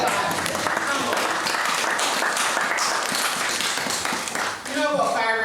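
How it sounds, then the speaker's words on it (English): Applause breaks out for a colleague at a memorial gathering, a steady round of clapping from a modest crowd, with a speaking voice rising over it at the end. "Someone here, come on, give him a clap"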